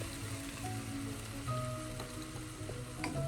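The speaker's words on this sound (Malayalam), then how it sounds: "ഈ സമയം നമുക്ക് അരിഞ്ഞ് വെച്ചിരിക്കുന്ന തക്കാളി ചേർക്കാം." Chopped tomatoes go into a pan of frying onions for chicken mulakittathu, and a steady, even sizzle carries on close by with faint scraping and a few soft ticks.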